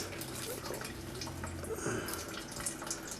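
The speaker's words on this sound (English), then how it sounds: "Okay, so I taken the malt pipe out, just sitting on top of the lid, and it's just draining into a bucket." Homebrew wort drains from a lifted malt pipe into a bucket on a Braumeister 20L all-grain brewer. It is a continuous close trickle and splash of liquid.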